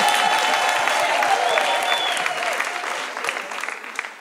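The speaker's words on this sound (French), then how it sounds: "Applaudissez pour lui." A church congregation applauds their pastor, a loud, dense burst of clapping from a crowd that holds steady and then thins slightly as it fades.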